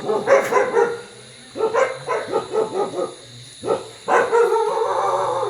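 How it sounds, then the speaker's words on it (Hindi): Several village dogs barking at night in front of Shah Villa, where a leopard killed a dog: loud, close bursts of repeated barks in quick rhythmic runs separated by short pauses. "ठीक शाहविला के सामने ये भौंक रहे हैं कुत्ते"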